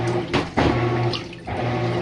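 Water gushes into a loaner washing machine running a delicates cycle, a loud close rushing fill with a steady pump hum and brief surges and splashes.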